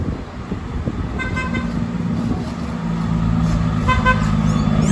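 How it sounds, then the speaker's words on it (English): A yellow bus passes on a road in Holetown, Barbados, sounding two or three short horn toots amid engine rumble and traffic noise that grows louder. "He honked for me."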